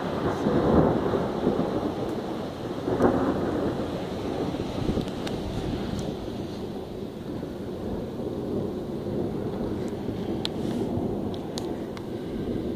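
Rumbling thunder from a nearby lightning strike rolls through steady heavy rain, loud and broadband, swelling at the start and again around three seconds before settling into a sustained roar with a few sharp crackles.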